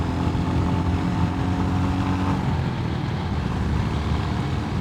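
A 350cc Royal Enfield Hunter motorcycle rides along forest trails, its engine a steady close drone that thins a little partway through, heard alone.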